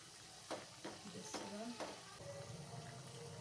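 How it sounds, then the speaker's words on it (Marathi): Bhaji fritters frying in hot oil, a low steady sizzle with occasional stirring and clinking, faint and continuous in a home kitchen. "तेल छान तापल्यामुळे भजी बघा कशी पटकन वर यायला लागले"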